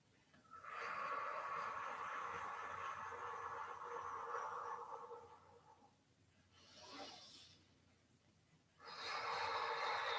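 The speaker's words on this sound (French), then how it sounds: "Vous soufflez bien." Long, airy exhales are blown out close during a seated and standing qi gong exercise, with two sustained breaths separated by a quieter pause and a short softer puff.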